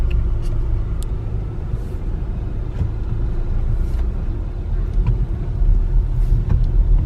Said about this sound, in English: I'll show you guys the traffic.